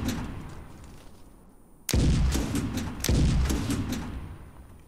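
A tank cannon fires in a video game, with three heavy booming shots spaced about a second apart, each followed by a rumbling tail, loud and alone.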